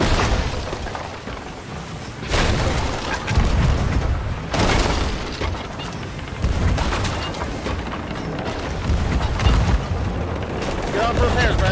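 Heavy booming cannon blasts go off repeatedly amid constant rumbling battle noise, loud and close, with bursts and crackling debris between them, in a ship battle in Sea of Thieves.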